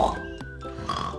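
A person imitates a pig with a short nasal oinking grunt, followed by a couple of brief vocal snorts, close and clear.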